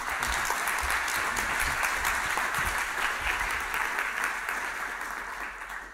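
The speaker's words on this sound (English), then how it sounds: "give him a big round of applause" Conference audience at a data science talent event giving a warm round of applause to welcome a speaker, a thick, steady clapping crowd sustained for several seconds before gradually tapering off.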